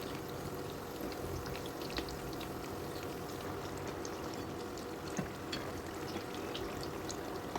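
A snack fries in oil with a soft, continuous bubbling crackle and faint scattered pops, steady and fairly quiet throughout, with no talking.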